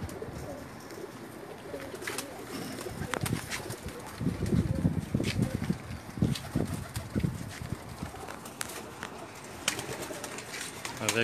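Several teddy pigeons coo in low, throaty bursts among ambient outdoor noise and intermittent clatter, with a person speaking now and then.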